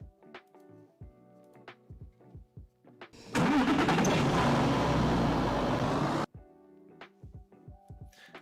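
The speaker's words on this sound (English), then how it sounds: "I didn't even realize how loud these cars are." Loud, steady roar of simulated car engines in a Unity neural-network driving simulation, bursting in suddenly for about three seconds between stretches of quieter talk, then cutting off abruptly.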